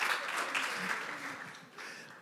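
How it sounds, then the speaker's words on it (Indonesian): Applause from an audience cheering for the metro kids, a broad wash of clapping that is loud at first and gradually thins out over a couple of seconds, with faint voices mixed in. "tepuk tangan buat anak metro lo dong"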